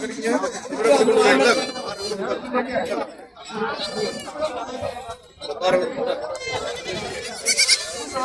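Goat kids bleat at a busy Tamil goat market, the cries mixed into constant crowd chatter and nearby voices, with people talking throughout.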